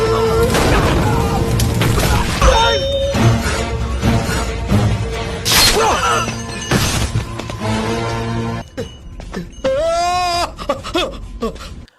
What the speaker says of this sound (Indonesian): Bahkan ledakan-ledakan kecil pun terjadi akibat bahan bakar yang ada di sekitar desa